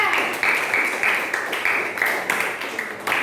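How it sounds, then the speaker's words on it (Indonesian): A group of schoolchildren claps together in a classroom in a fairly steady rhythm, the applause moderately loud and close, continuing for a few seconds. "tepuk tangan dulu anak-anak kelompok 3"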